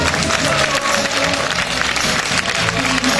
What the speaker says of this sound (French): Allez-y, les applaudissements là.